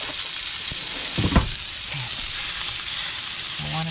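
Thick pieces of food fry slowly in a pan, a steady broadband sizzle running throughout with a few brief clicks and scrapes of a fork, and no talking.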